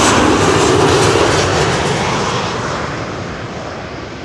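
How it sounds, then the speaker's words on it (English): A KLM Airbus A330-200 airliner roars in on arrival at Schiphol, a loud, broad jet-engine rumble and whoosh that slowly fades as it passes, with no talking. "time for KLM flight 765, arriving from Bonar. A330-200, there it is already"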